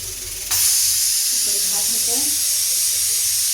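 Oil heating in a kadai sets off a sudden loud hiss that holds steady and close, while a person speaks briefly beneath it.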